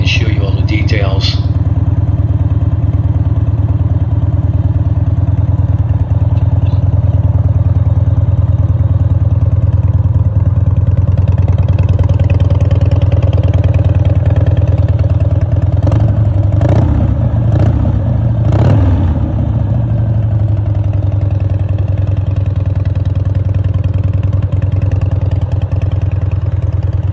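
A black Harley-Davidson with an EVO engine runs at a steady idle, a loud continuous throb with mechanical clatter. A few brief knocks or voices come partway through.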